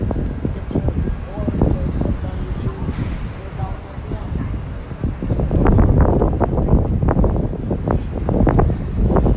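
Steady low rumbling wind buffeting the microphone on a Manhattan street near Columbus Circle, growing heavier partway through, with muffled voices and street noise underneath.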